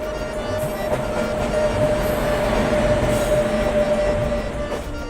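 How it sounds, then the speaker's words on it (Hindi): Non-AC double-decker train coaches roll into a platform with a loud, continuous rumble, a sustained tonal whine and faint rhythmic wheel clatter throughout. "तो ये आ गए कोच, जिस कोच की मैं बात कर रहा था"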